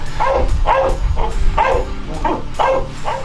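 A shepherd search-and-rescue dog barks loudly and close in a quick, rhythmic series of about seven sharp barks, each with a slight whining edge.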